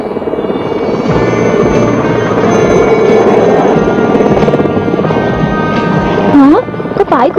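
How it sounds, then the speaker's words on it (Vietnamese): A helicopter's steady buzzing drone holds loud and close throughout, with dialogue-like voices and whooping tones rising near the end. "Có trực thăng thật sao?"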